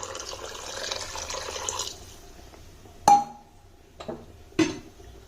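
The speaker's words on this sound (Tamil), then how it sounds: "இனி நம்ம குழம்புக்கு தேவையான அளவுக்கு தண்ணி சேர்த்துக்கலாம்." Water splashes and trickles into a pot of tamarind curry, a steady pour at first, followed by a few sharp knocks and clinks near the end.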